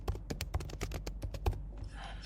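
Rapid, uneven keystrokes on a computer keyboard as a title is typed, about a dozen close, crisp taps in quick succession, followed by a softer rustle at the end, with no talking.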